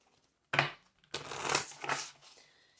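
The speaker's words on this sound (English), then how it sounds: "Do one more shuffle." Tarot cards are shuffled in a quick riffle burst, then a longer run of flicking and sliding, close and clear with no voice over it.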